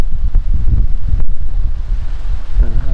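Strong wind buffets an outdoor microphone at a campsite in rural northeastern Brazil, a steady low rumble with gusty bursts throughout and no voices.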